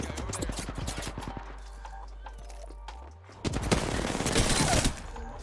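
Rapid bursts of video game gunfire, a clustered volley of shots followed after a short lull by a louder, denser fusillade, with a steady low drone underneath.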